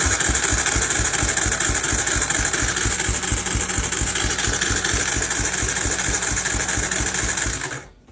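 An old Honda TRX250 quad engine chugs at a loud, steady idle with a rapid mechanical rhythm, close up, then cuts off at the end.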